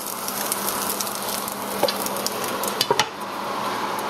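Steak pieces reheating in a hot pan give a steady, close sizzle, with a few sharp clinks of a utensil against the pan near the end.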